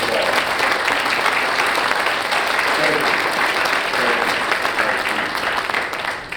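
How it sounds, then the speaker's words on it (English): An audience at a public safety symposium gives loud, sustained applause, a dense continuous wash of many hands clapping that stays full throughout and tapers slightly at the very end. "Everybody, please give these people a big round of applause."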